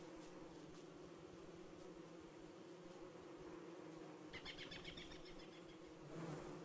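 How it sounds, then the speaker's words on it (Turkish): Steady, continuous buzzing of bees droning close by in the video game Don't Starve, with no voices. "Şu arı kavanlarına yaklaşmayın."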